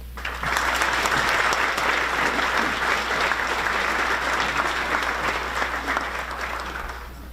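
An audience at a chamber of commerce annual meeting and awards event gives sustained applause, steady and full from many hands for several seconds, over a low constant hum in the room.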